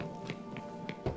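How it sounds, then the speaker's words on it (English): A wine barrel knocked on in The Witcher 3 video game: a few soft, dull taps spaced apart over quiet background game ambience, the last one a bit heavier. "For now, a knock will suffice. If you hear a hollow thud..."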